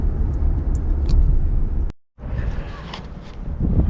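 Cars idle and pass in a marina parking area, a steady low engine rumble with light footsteps on pavement, cutting out briefly before resuming.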